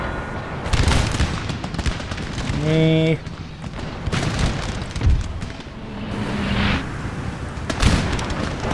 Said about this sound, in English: they are taking artillery fire